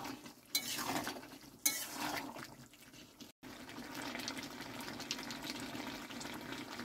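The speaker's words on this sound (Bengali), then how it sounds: "এবার আঁচটা জোর দিয়ে ভালো করে টকবক করে ফুটিয়ে নেব।" Bengali jackfruit and shrimp curry boils hard over high heat, a steady close bubbling that starts after a couple of brief clinks and scrapes of stirring.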